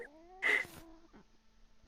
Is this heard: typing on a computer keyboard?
no